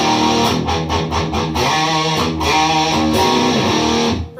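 A BOSS distortion pedal drives an electric guitar into a thick, gritty tone, with chords strummed and let ring at close range, loud and steady throughout before trailing off at the very end.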